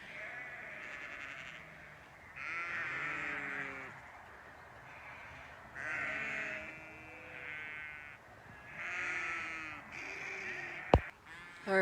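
Sheep bleat repeatedly in a pasture during hay feeding near a fence line, several loud overlapping calls in bursts with short pauses, one sharp knock near the end.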